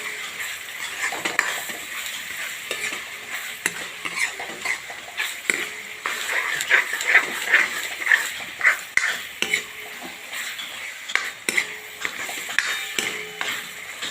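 Spices roast in oil for pav bhaji while being stirred, a continuous close sizzle broken by repeated spatula scrapes and occasional light metallic clinks against the pan.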